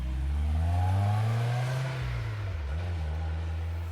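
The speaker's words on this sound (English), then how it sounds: "neighborhood cameras capture the white Elantra leaving the area at high speed" A white Hyundai Elantra speeds away through a residential neighborhood at night, its engine a loud, low roar that swells and then eases as it pulls off.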